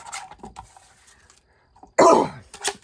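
A woman recovering from pneumonia clears her throat and gives a few short, rough coughs up close, with a quiet pause between the bursts.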